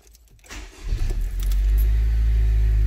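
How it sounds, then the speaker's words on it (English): A car engine cranks and catches after a brief jingle of keys, then settles into a steady, loud idle for a battery and alternator check. "start your engine one time for 30 seconds"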